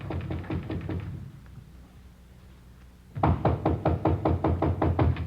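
Firm knocking on a door in two bursts of rapid raps, loud and close, with a quiet gap of low room noise between them.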